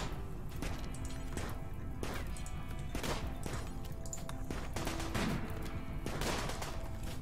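Rapid gunfire from a RimWorld battle: repeated sharp shot bursts in irregular volleys over a dense, steady backdrop of game music and ambience, with no voices.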